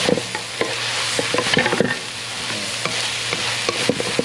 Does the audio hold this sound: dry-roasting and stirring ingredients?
yes